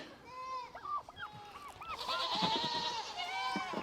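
Goats bleating on a farm, several wavering calls in quick succession, some near and loud, others overlapping in the background, with a person talking briefly amid the noise.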